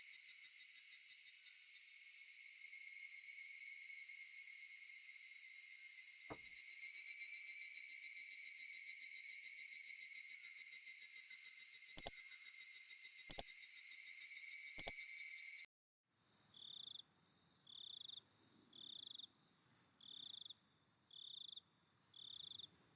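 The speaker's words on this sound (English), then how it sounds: "Gotta hear the cicadas." Higurashi cicadas in the video game Higurashi: When They Cry Meakashi, a steady high droning chorus that gives way to rhythmic repeating pulsed calls, loud and continuous with no voices.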